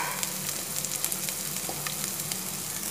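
Green chillies and finely chopped onion sauté in a pan for a pea and egg thoran, giving a steady, close crackling sizzle with small pops throughout and no voices.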